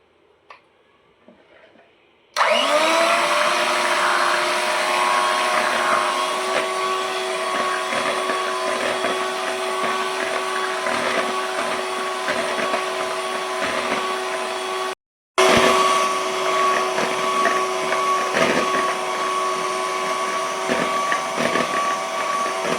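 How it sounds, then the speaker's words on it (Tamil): Electric mixer beating cake gel, water and eggs for a bakery-style cake, a steady continuous motor whir with a scraping rattle. It starts after a brief quiet lead-in and cuts out for a moment near the end. "கேக் ஜெல்லு, வாட்ரு, எக்கு போட்டு பீட் பண்ணியாச்சு"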